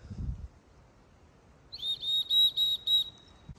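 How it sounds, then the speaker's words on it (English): A titanium survival whistle is blown about 30 feet away outdoors in the woods, giving five short, shrill, piercing blasts in a quick steady rhythm against quiet background. "I'm gonna walk away a certain distance and blow the whistle"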